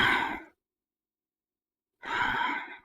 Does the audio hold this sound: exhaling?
yes